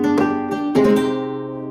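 Guitar with a capo giving a brighter tone, several strummed chords in a short rhythmic pattern, close and clear, ringing out at the end.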